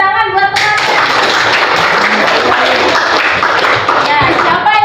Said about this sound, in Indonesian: Ya, tepuk tangan buat teman-teman.